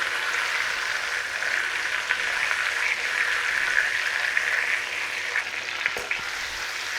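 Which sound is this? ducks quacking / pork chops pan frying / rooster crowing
pork chops pan frying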